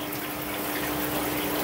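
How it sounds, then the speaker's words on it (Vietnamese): Water trickles and bubbles steadily in a home aquarium, a continuous close wash of gentle splashing and pump hiss that stays even throughout. "Cái này mình để gần hồ cá nó nghe cái tiếng róc rách của hồ cá này."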